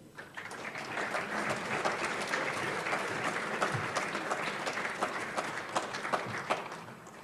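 Sustained audience applause greets Professor Amanda Tyler as she is welcomed to the stage at an SJR meeting, a dense steady wash of many hands clapping throughout, fairly close and even in level.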